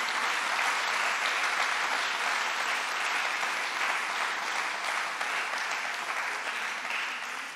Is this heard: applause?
yes